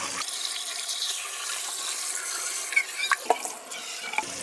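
Sea moss is rinsed under a running kitchen tap, making a quiet, steady stream of water with a few small splashes and sloshes as it is handled.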